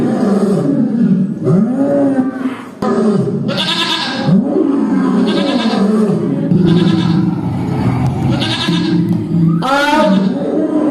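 A voice imitates a lion roaring in a few loud, drawn-out growling roars, alternating with bleating goat-like calls, delivered close and without pauses over about eleven seconds.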